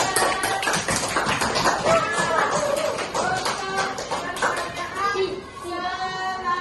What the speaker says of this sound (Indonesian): Ayo tepuk tangan yang lain.